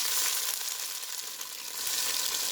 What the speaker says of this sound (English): I'm just going to fry them till the outside is crispy.